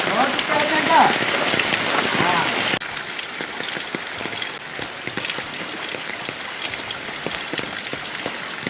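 Steady rain patters densely on a surface nearby, a constant hiss with scattered drops, slightly heavier at the start.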